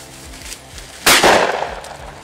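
A single sharp shotgun blast fired while upland bird hunting with dogs, sudden and loud, with a broad burst of noise that decays over about a second outdoors.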